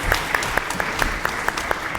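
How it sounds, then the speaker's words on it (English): A conference audience applauds steadily to open a panel session, dense hand claps with a few sharper claps standing out, continuous and moderately loud for the full stretch. "Please give a round of applause,"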